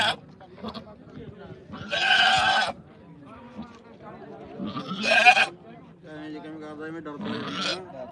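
A Barbari goat gives several loud, wavering bleats, spaced a few seconds apart, with low background chatter and rustling between them at a goat market in Dhanaula, Punjab.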